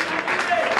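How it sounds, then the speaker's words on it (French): At the Nzonzing Awards ceremony, an audience claps for an artist in a brief, dense burst of applause with voices mixed in. "est-ce qu'on peut applaudir pour son savoir-faire?"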